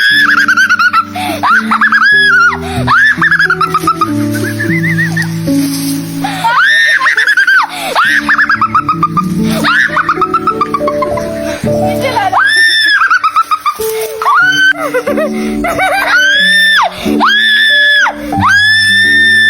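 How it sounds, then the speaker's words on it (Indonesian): Children shriek loudly and repeatedly while riding a homemade tree swing outdoors, the high screams rising and falling with bursts of laughter, continuous and close throughout. "teriak bukan karena takut tinggi, soalnya ayunannya nggak terlalu tinggi kan"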